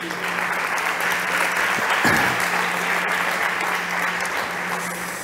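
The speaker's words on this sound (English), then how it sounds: "Big applause." Steady audience applause runs throughout at a startup pitch competition, a dense even patter of many hands clapping, moderately loud, with no talk over it.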